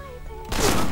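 A single sharp gunshot bursts in halfway through, loud and broadband, cutting off a quieter tonal game background.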